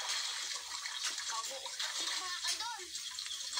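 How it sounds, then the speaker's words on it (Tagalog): Water splashing as a person wades into water while fishing, continuous broadband sloshing and gushing close by, with faint voices underneath. "Lumusong sa tubig."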